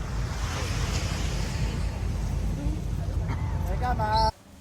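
Waves wash ashore at Changi Beach, Singapore, a steady loud surf roar mixed with wind buffeting the microphone, with a voice briefly audible near the end before it cuts off.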